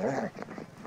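A dog growls and whimpers at close range, with a drawn-out whining tone at the start, rougher growly bursts in the middle and another short whine at the end, all within about a second.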